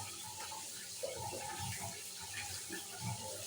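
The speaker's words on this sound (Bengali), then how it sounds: "জলটা ফেলে দিলাম" Water from boiled potatoes draining through a basket, a soft, quiet splashing and trickling stream with a small burst of sloshing near the start and fainter gurgles after.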